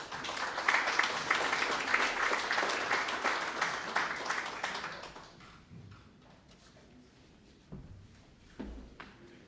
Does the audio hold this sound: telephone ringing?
no